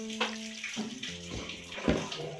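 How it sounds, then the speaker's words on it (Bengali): Water poured a little at a time into flour while mixing nimki dough, a close, splashy trickle with a few brief sloshing bursts over a couple of seconds. "অল্প অল্প জল দেব, জল দিয়ে একটা ডো তৈরি করে নেব।"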